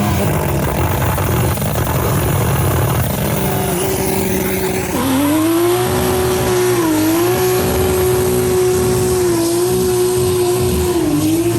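A barn-find Dodge Charger with a turbocharged 2JZ swap pulls hard, its loud engine note climbing and holding a rising tone as the turbo spools up. It sounds close and sustained, with no talking.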